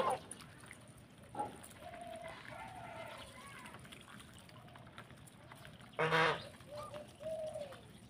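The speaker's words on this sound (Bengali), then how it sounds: "এগুলো হচ্ছে নেত্রকোনার হাঁস, টাঙ্গাইল নিয়ে আসছি" Ducks from Netrokona quack in a few short nasal bursts, fairly close, with a quiet outdoor background and occasional human voices.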